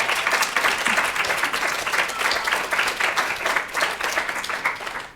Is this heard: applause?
yes